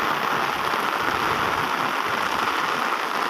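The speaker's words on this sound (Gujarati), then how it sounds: "અતિ ભારી વરસાદ પડાશે. હજી તો ચાલુ છે" Very heavy rain pours steadily in Bhadravadi village near Botad, Gujarat, a dense, continuous roaring hiss of water drumming on surfaces with no pauses or voices.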